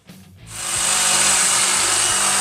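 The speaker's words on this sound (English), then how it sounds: "And then we will cut the pipe down here." Power tool cutting through pool heater plumbing pipe, spinning up after a short quiet start into a loud, continuous hissing whine that holds steady to the end.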